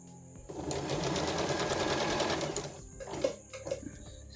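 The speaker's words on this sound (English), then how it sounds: "Hold it down with your finger and then start stitching." A sewing machine stitches a single-layer reusable fabric bowl cover, running in a steady fast whir for about two seconds, then stopping and leaving a few softer mechanical clicks and handling sounds.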